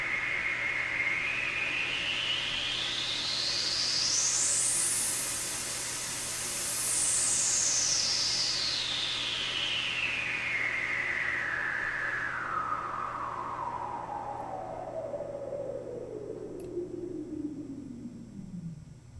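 A resonant filter on an Elby Designs EuroSerge 1973 VCF synthesizer module sweeps through hissing noise, rising slowly to a high shriek and then gliding back down to a low tone.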